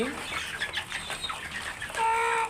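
Chickens cluck in short, scattered calls, with a louder drawn-out squawk near the end, over faint ambient noise.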